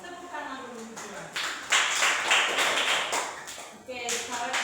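Pupils in a classroom clap their hands in a brief burst of rapid, close claps between stretches of a voice talking.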